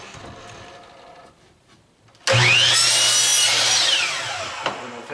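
A power saw bites into wood to cut a miter: after a quiet stretch of faint workshop noise, the blade whines up sharply and loud, holds a steady high cutting scream for a few seconds, then eases slightly as the cut finishes.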